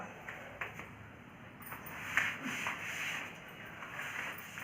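Sandpaper rubbing the coating off the ends of a copper wire: soft, faint scratchy rubbing strokes close by, without speech.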